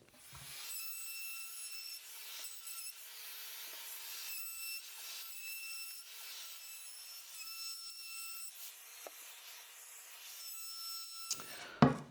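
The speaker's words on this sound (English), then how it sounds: "So I'll use one of my routers with a 45-degree bit in it for a cleaner cut" A high, steady whine of a router with a 45-degree bit runs throughout, with repeated rasping passes cutting into wood for a DIY floating cross, rising and falling.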